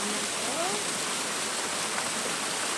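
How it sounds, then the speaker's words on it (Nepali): A waterfall beside a hillside cave shrine rushes in a steady, broad roar of falling water, constant and moderately distant, with a brief faint voice-like trace near the start. "हामी यहाँ साउन्डको नेचुरल साउन्डको झरनाको साउन्डको रमाइलो पनि लिँदैछौँ।"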